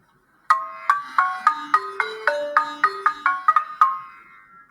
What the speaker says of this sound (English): The balafon is another great instrument of West Africa and is played similarly to the xylophone.